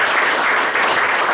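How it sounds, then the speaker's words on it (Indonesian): An audience at a Prudential agency event bursts into loud, sustained applause, a thick, continuous roar of many hands clapping throughout, with no talk over it. "Kasih tepuk tangan luar biasa."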